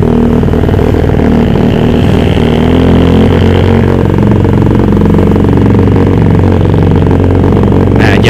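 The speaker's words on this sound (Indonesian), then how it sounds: "kalau yang ini kan settingannya backfire ya, bukan yang helikopteran" Honda Vario 150 motorcycle fitted with a Juken 5+ ECU set up for backfire, its engine loud and close, revving in a steady drone with a sharp burst near the end.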